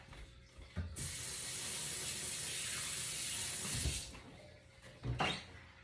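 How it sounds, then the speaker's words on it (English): A kitchen tap runs steadily for about three seconds while hands are washed under it, with soft thuds and a clunk before and after as the water is turned on and off. "So I'm gonna wash my hands and add that."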